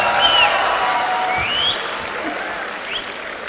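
Audience clapping at a college fest talk at BITS Pilani Goa, a sustained crowd applause with faint whistle-like tones riding over it, easing slightly toward the end.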